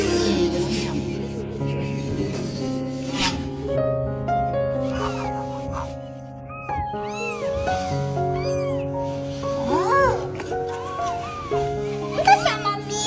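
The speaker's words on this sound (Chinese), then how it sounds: "小猫咪，现在它叫了没有？" A kitten meows repeatedly in high, wavering cries beside a voice, with background music or tones layered under it; the mews sound close and clear throughout.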